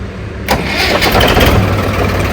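A Swaraj 744 tractor engine cranks and catches, then settles into a loud, close, steady diesel idle that runs on alone to the end.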